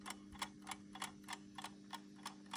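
An antique clock ticks after repair of its damaged hammer, about three even, crisp ticks per second, quiet and close, with a faint steady hum beneath and no voices.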